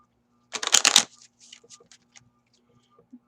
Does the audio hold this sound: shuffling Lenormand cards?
yes